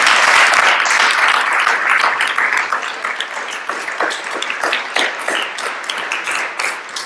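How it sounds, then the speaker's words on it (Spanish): Applause from the audience at a book presentation for the author, loud and dense at first, then thinning into scattered individual claps as it gradually fades. "un aplauso para la autora"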